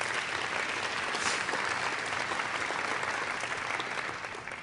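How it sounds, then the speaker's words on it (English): Audience applause fills a school district meeting, steady dense clapping from a large crowd throughout, close and loud, tapering slightly at the end. "Can we give them a round of applause, please?"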